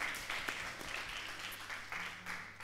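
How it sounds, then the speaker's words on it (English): Students at a university union election results event applaud, a soft, continuous patter of scattered claps with a faint low hum underneath. "I want you to all give yourselves a huge round of applause"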